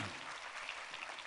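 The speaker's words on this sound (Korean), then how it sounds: "우리 하나님께 감사와 영광의 박수를 드리겠습니다." A church congregation bursts into steady applause, a dense wash of many hands clapping together at a fairly loud, even level throughout.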